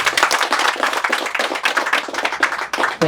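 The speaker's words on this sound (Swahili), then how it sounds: "Tumpigie makofi." A church congregation applauds a reverend with dense, sustained clapping from many hands, loud and close, continuing steadily throughout.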